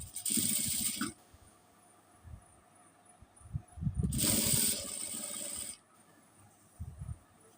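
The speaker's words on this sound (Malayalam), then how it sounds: "എന്നിട്ട് മുകളിലൂടെ സ്റ്റിച്ച് ചെയ്യാം. അരികു ചേർന്ന് സ്റ്റിച്ച് ചെയ്യാം." Sewing machine stitching close along the edge of a nighty frock, running in two loud bursts of fast whirring with quieter mechanical clicks and handling noise between them.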